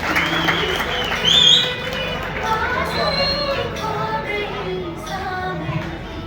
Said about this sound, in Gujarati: આવો રાજેશભાઈ, જોરદાર તાળીઓથી વધાવશું આપણે.